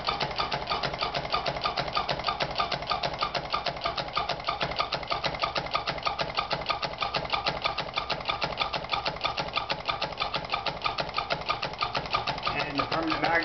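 A homemade battery-powered magnet motor with a homemade sensor runs steadily, its permanent magnets shifting on the rotor, giving a fast, even buzzing pulse that holds constant throughout at moderate volume.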